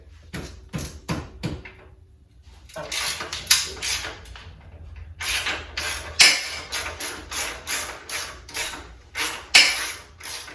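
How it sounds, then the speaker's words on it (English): A ratchet loosening a muffler clamp on a motorcycle exhaust, a series of sharp close clicks in quick bursts separated by short pauses, with faint background noise. "I'm going to start by loosening up the muffler clamp"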